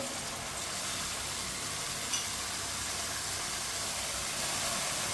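Chopped spinach tipped into a sizzling masala for Punjabi-style turnip curry and stirred, giving a steady, even frying hiss throughout with a faint scrape from the mixing.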